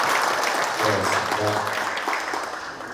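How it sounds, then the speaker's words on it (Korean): Audience applause fills a policy advisory committee meeting on the Daegu-Gyeongbuk integrated new airport, a steady wash of clapping from a seated crowd, with a brief spoken thank-you partway through. "서로 환영을 위해서 여러분 큰 박수 한번 쳐주시겠습니까?"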